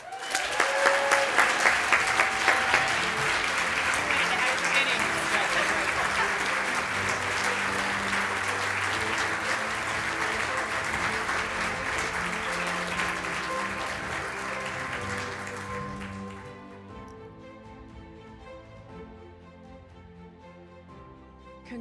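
A large audience at a live awards gala for the Military Child of the Year gives loud, sustained applause that stays full for around fifteen seconds, then tapers off to scattered claps.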